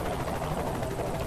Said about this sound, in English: That's a nice helicopter.